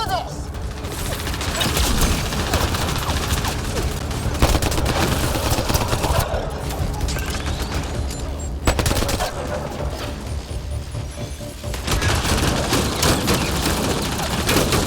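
Dense, loud gunfire in the sci-fi shooter game Mass Effect Andromeda, rapid automatic bursts and blasts continuing almost without pause, briefly cutting out twice, with speech mixed in.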